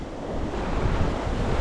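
Choppy sea at a beach on Egmont Key sends a constant, dense wash of surf close by, with gusty wind buffeting the microphone throughout.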